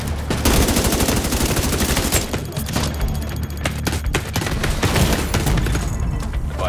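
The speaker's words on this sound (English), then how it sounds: "Launching grenade!" Sustained gunfire and a grenade launch in The Division 2, played on Xbox One: loud, dense bursts of automatic fire and sharp cracks crowd the whole stretch, with a few heavier thumps mixed in and no talk.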